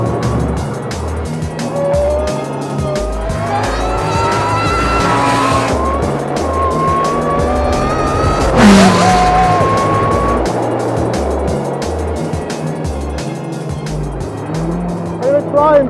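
An Ariel Atom 300 sports car is driven hard, its engine howling and revving up and down as the tires squeal loudly through corners, with a brief burst of louder skidding midway.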